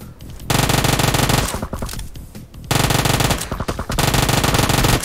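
Rapid automatic fire from a 9 mm gun in PUBG Mobile comes in long, loud, close bursts, with three sustained volleys separated by short gaps of quieter scattered shots.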